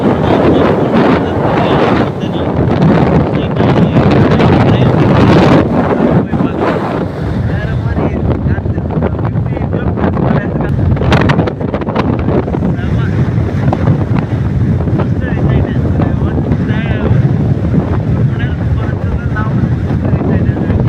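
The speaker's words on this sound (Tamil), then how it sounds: "காற்று பயங்கரமாக அடிக்குது." Strong wind batters the microphone on the Kumara Parvatha mountain trek, a loud constant roaring buffet with gusty surges that persists throughout.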